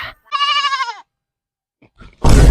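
A goat lets out one wavering, close bleat, followed by a short quiet gap and then a burst of loud rustling noise.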